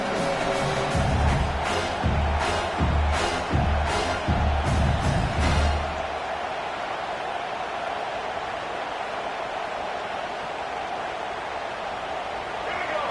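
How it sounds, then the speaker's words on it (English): A football stadium crowd roars as a broad, steady wash of noise, with rhythmic thumping chants or drum beats in the first half that give way to a sustained, even roar. A voice talks faintly over it. "This crowd bringing the energy and noise early."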